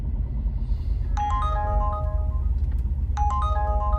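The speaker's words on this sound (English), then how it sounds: "It was a notification." A phone notification chime plays twice, each a short, bright cascade of rising tones, over the low steady hum of a car interior.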